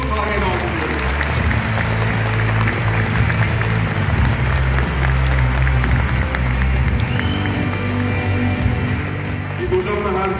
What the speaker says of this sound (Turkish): Alkışlarınızla Afkan Doşuyolu sahneye alkışlıyoruz